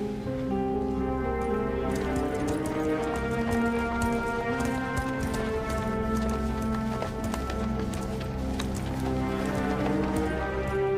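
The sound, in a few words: horses' hooves clip-clopping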